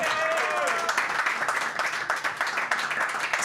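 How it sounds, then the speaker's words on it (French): A podcast studio audience applauds a guest, a dense patter of clapping that thins slightly over a few seconds, with a voice briefly heard over it. "vous pouvez l'applaudir encore une fois"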